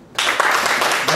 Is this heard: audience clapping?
yes